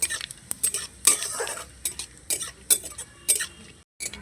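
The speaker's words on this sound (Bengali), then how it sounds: "জিরেটাকেও ভেজে নেব ভালো করে" Whole cumin seeds fry in a pan with whole garam masala for egg fried rice, stirred with sharp clicking spatula scrapes over a faint sizzle, up close with no voices.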